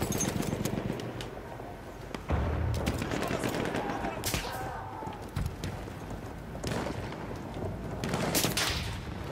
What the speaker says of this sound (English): somebody's taking shots